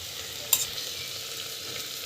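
Spices and coconut masala sauté in a pan with a soft, steady sizzle, one brief clink of a utensil early on, and no voices.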